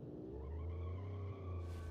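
A 1960s muscle car in the video game BeamNG brakes hard, its engine holding a steady, droning tone under a faint tire rasp before it cuts out.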